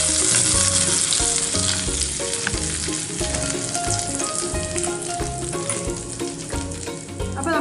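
Tempering for Kerala okra (vendakka) pachadi sizzles and crackles loudly and steadily in a hot pan, with a dense, continuous fry throughout and no voices.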